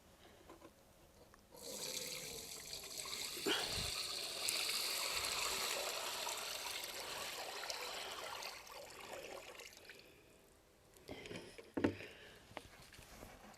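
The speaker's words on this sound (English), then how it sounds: "what I'm going to do now is pour that in here so you can see how I strain it" Clay slip poured into a vat and strained for Cherokee pottery, a steady watery rush and trickle lasting several seconds, close by, then tapering off with a few splashes and knocks.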